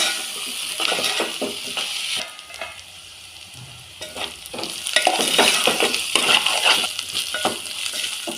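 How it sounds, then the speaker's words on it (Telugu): Potato pieces sizzling in oil in a pan over medium flame for a Telugu broad bean curry, a steady close frying hiss with stirring scrapes and occasional clinks of the spatula. "ఇలా ఒక 2-3 మినిట్స్ ఆలుగడ్డ ఉడకాలండి నూనెలో"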